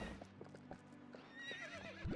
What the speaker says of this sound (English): The horse is so pretty, though. Epona's a pretty horse.